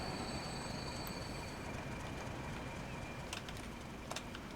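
A steam-hauled goods train of Mark 1 carriages in the video game Transport Fever 2 rumbles steadily along, with faint birdsong and pigeon cooing overhead, several brief high wheel squeals near the end, and no speech.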